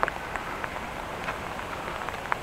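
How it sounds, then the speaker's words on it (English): Rain falls steadily during a walk through the West-Indische Buurt in Groningen, a soft, even patter with occasional sharper drips close by. "Still raining, yesterday was rain, and now it's also rain"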